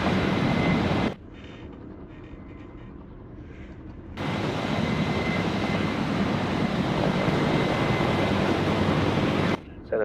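A low, steady aircraft engine drone in Arma 3, loud at first, cutting to a quieter hum for a few seconds, then returning at full strength as the craft comes down beside a tank.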